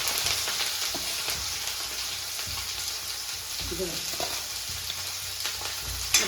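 Tomatoes, chilies and potatoes frying in a pan for a fasting-day dry potato dish, a continuous soft sizzle with occasional stirring scrapes, close and moderately quiet, no voices.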